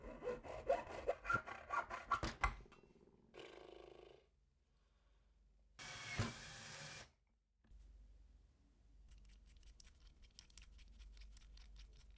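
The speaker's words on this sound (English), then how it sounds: "so I just use a hacksaw because you hack things with it" A hacksaw cutting through a handle, quick rhythmic back-and-forth rasping strokes up close, followed by a pause and then scraping and handling noises, no talking.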